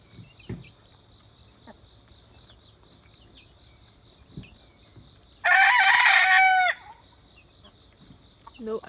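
A rooster in a chicken coop crows once, a loud close call lasting about a second, over a quiet background with occasional soft clucks and faint insect chirping.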